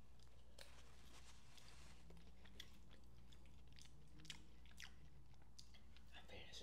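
Homemade pot pie being chewed close to the mic, with soft, quiet bites and crunches repeating irregularly against a low background hum.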